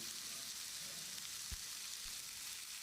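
Chopped tomatoes frying in a pan with salt and turmeric for Chettinad chicken, a soft continuous sizzle with a couple of faint low knocks from stirring.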